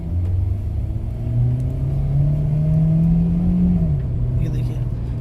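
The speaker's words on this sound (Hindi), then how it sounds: "तो अब मैं एक्सीलरेटर पुश करता हूँ और देखते हैं गाड़ी कैसा परफॉर्म करती है।" A Hyundai Elantra running on CNG accelerates, its steady engine drone climbing in pitch for a few seconds before easing back, heard close and continuous from inside the car.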